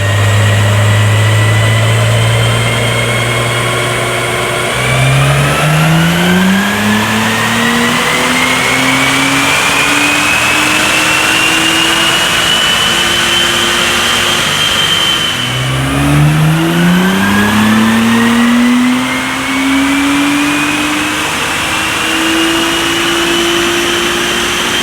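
A tuned Acura NSX engine revs loudly on a dyno in two long pulls, its pitch climbing steadily through the gears with a whining rise each time, then dropping back to a lower drone between runs, and no voices.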